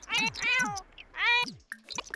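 Several high, drawn-out cat meows in quick succession from The Sims 4, bright and synthetic-sounding, with a short electronic blip near the end.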